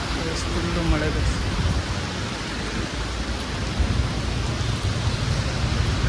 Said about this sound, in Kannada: ಮಳೆ ಬೇರೆ ಬರ್ತೈತೆ.